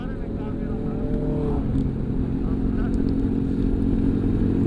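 Motorcycle engine droning steadily while riding, close and continuous, with a rider talking over the noise.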